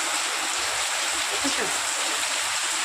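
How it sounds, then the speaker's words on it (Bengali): Steady, dense heavy-rain hiss fills the whole stretch, a continuous wash of falling water without pause. "এই দেখো কত জোরে বৃষ্টি হচ্ছে"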